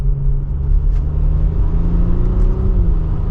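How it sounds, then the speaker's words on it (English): A 2024 Audi SQ5 Prestige engine and exhaust in comfort mode during mild acceleration, heard from inside as a steady low drone and rumble with a gently rising tone, continuous and fairly loud throughout. "You hear a little bit more of the engine versus some of that exhaust in dynamic mode."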